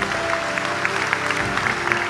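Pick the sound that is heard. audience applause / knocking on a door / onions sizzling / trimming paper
audience applause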